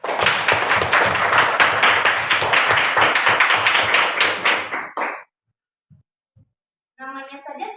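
Students in a classroom clap together in a dense, steady burst lasting several seconds, then it cuts off abruptly into near silence before a voice begins speaking.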